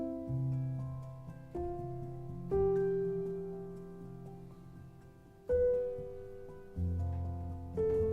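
A sequence of sustained hammer-piano notes with a soft, woody attack, each ringing out and fading before the next, played alone.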